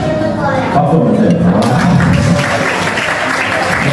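An audience at a Saturday family environmental board game event at the Daegu Green Learning Center breaks into loud, sustained applause, steady clapping filling the room from start to finish with voices mixed in.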